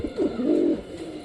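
A pet pigeon named Fyasa coos close by, a low soft rolling coo lasting about a second with no talk over it.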